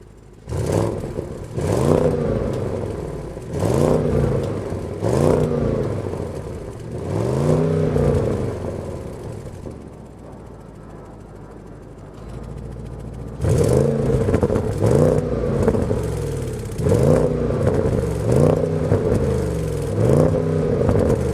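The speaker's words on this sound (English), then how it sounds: "let me take you around back so you can take a listen to what this 8-cylinder sounds like" Audi S8 eight-cylinder luxury sedan engine revved repeatedly from behind the car, a series of loud rising and falling bursts, a quieter idle pause midway, then another run of rhythmic revs.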